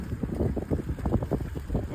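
Strong wind buffeting the microphone in gusty low rumbles during a ride on an old foldable bike, steady and loud throughout with no clear speech.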